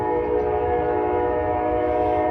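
An Amtrak Mardi Gras Service passenger train sounds a loud, sustained horn chord as it passes through Bay St. Louis, Mississippi, with heavy rumble underneath.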